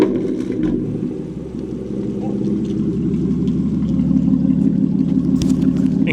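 A BMW M3 Competition with a cat-back exhaust fires up and settles into a loud, deep, steady rumble close by, with a faint voice briefly audible over the engine.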